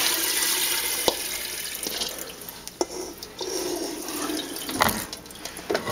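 Liquid drained off homemade butter, a steady close trickle and splash of running liquid with a few sharper drips and knocks over about six seconds, no talking.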